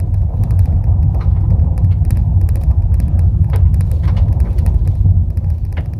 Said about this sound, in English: now we're on a gravel road.